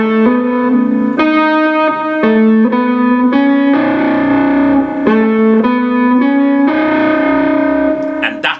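Electric guitar playing smooth legato lines of close-harmony notes, with effects and distortion, sustained tones shifting steadily in clear, loud phrases with no talking.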